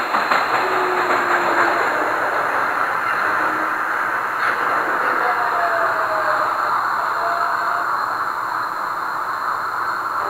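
A Queensbound 9 local subway train in the OpenBVE train simulator game rumbles steadily along the tracks with a continuous roar, faint clatter and occasional brief whines, no voices.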